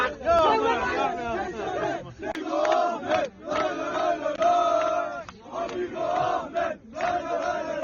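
Gaziantep FK football supporters chant together in a loud, rhythmic mass of voices, with surges of massed shouting separated by short dips and crowd babble throughout.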